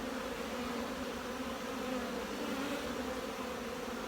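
Honey bees buzz inside their nest, a dense, steady low hum, close and continuous, with no voices.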